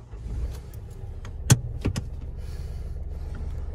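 A manual car with an automatic-clutch conversion starts with the brake pressed: a low, close engine rumble runs throughout, broken by a few sharp clicks and thumps early on.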